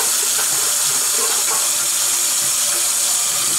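An aquarium filter is rinsed under running tap water, a steady close gush of flowing water that fills the whole stretch without a break.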